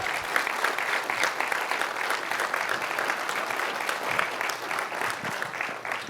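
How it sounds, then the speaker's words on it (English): A large audience at a school district service academy night applauds steadily, a dense, even wash of clapping from a crowd in a hall. "Let's give these guys a round of applause."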